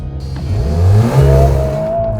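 Volkswagen Mk8 Golf R accelerating hard in sport mode on a wet surface, engine revving up loudly and steadily with a rising tone over about two seconds, close and continuous.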